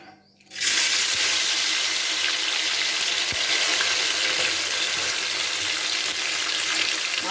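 Small chuno mach fish dropped into hot oil in a wok burst into a loud, steady hissing sizzle that starts abruptly and holds without a break, close and alone.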